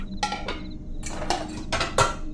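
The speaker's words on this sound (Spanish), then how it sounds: "mi madre retiró las tapas de las cacerolas" Metal lids lifted off cooking pots at a dinner table, giving several sharp clanking and scraping bursts in an uneven rhythm, close and fairly loud.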